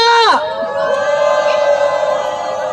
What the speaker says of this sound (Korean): 당원 유세단 대파 박수와 함성을 부탁드립니다